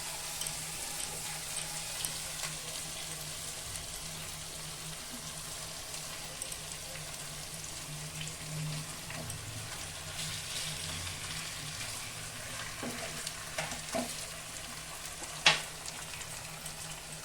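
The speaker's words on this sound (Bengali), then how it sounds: "মশলাটা খুব সুন্দর কষানো হয়ে গেছে, উপরে তেল এসে গেছে। আমি এখন চিকেনটা দিয়ে দেবো।" Chicken pieces fry in cooked-down spice masala with oil risen to the surface, giving a faint, continuous sizzle with a few light knocks and one sharper clink near the end.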